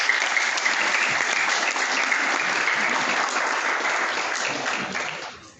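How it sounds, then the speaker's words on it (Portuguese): Audience applause at a capoeira community gathering in Herval do Oeste, a dense, even roar of clapping from a crowd, sustained at steady loudness and fading away in the final second. "Salva de palmas"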